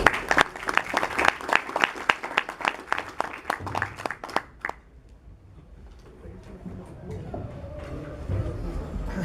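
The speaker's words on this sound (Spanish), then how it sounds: "los 10 minutos al profesor Humberto Quispe, al cual también saludamos con fuertes aplausos." Audience at a physics and God debate applauds warmly for about five seconds with dense, even clapping, then the clapping fades into a quiet room with faint murmur.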